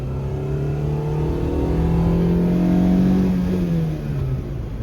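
A 2003 Maruti Zen car accelerates in second gear, its engine note loud, close and steady as the pitch climbs, then eases off slightly toward the end.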